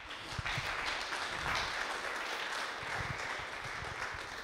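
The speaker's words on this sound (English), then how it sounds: "A round of applause for all the speakers." Applause from a conference audience after the speakers' talks, a steady wash of clapping at moderate level throughout, with a few sharper claps standing out early on.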